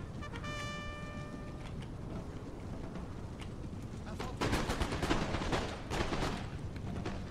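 Musket volleys on a battlefield in Napoleon Total War, with scattered crackling shots followed by a denser burst of rapid gunfire partway through, set against a low rumble and background noise, with a voice talking.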